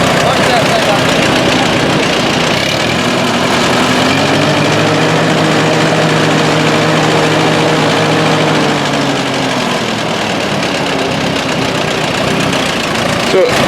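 A tandem tractor's engine runs loud and steady at a farm machinery show, a continuous idling drone with knocking undertones that fills the whole span, with a faint voice half-buried beneath it.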